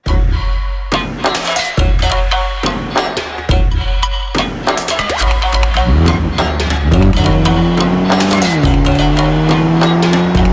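A Toyota GR Supra accelerates hard, its engine note climbing through the gears and changing pitch at each shift, with tires squealing over a loud, close, continuous roar.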